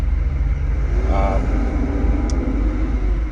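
Steady low rumble of road and engine noise from inside a moving car, constant and close throughout with no clear changes.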